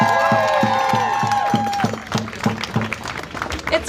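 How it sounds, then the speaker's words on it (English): Crowd applause and cheering at an outdoor protest at a detention center in Tacoma, Washington, with rhythmic pulsing beats and scattered whoops over continuous clapping, fairly loud and close. "Give them another round of applause."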